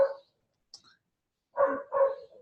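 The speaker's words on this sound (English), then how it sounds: "there's a dog here" A dog barks a few times close by, a short bark followed after a pause by two quick louder barks, with quiet in between and no talking.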